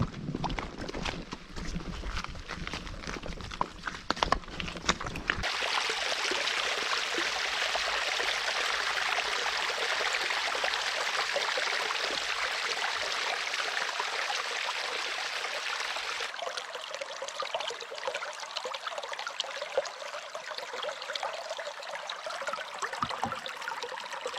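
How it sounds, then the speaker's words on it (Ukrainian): A small forest stream that feeds the Sluch River in Ukraine rushes with a steady, loud hiss for several seconds, nearer and stronger in the middle, then continues more softly while passing on a bicycle trip. "Цей потічок впадає в річку Случ."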